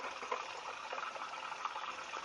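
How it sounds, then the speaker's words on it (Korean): Water rushing steadily through a newly installed hydrogen water purifier after its valve is opened, a continuous hissing gush at moderate level with no talk over it. "물 나오는 소리 들리죠?"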